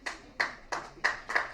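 Audience applause at a city council meeting, five short sharp bursts of clapping in an even rhythm, fairly close and moderately loud, with no talking.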